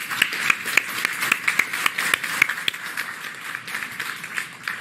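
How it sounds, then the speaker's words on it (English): Courtroom applause for military veterans: a dense, steady patter of many hands clapping at moderate volume with no voices, holding evenly for several seconds. "I think we give a round of applause to the people who've served our country"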